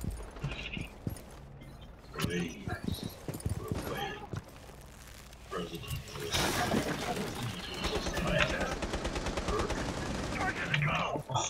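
Video game gunfire: scattered shots and bursts under voices early on, then a sustained rapid machine-gun rattle through the second half, moderately loud with talk over it.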